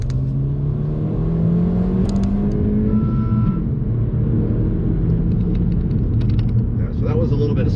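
A 2024 Honda Civic Si engine revs and climbs in pitch from inside the cabin, a steady mechanical drone with rising and falling tones under road rumble, with a voice briefly present.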